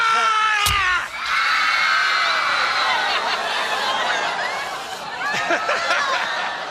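An audience at a death-defying magic stunt screams loudly together, with shrill overlapping cries that swell, dip briefly, then rise again amid crowd noise.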